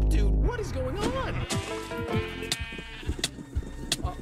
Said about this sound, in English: This is actually crazy how many sheep there are in this one area.